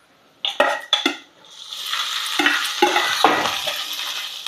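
Boiled sweet corn tipped into a pan of fried onions and green chilies, a few loud clattering scrapes and splashes followed by a strong, steady hiss of frying, close up.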